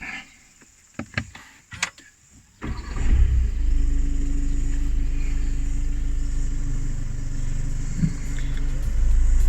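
SEAT Ateca engine fired up by push button: a few faint clicks, then the engine catches and settles into a steady, loud, close idle rumble that continues to the end.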